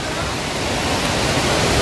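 Aagayagangai waterfall in the Kolli Hills roars as a steady, dense wash of falling water heard up close, with spray and no other sounds over it.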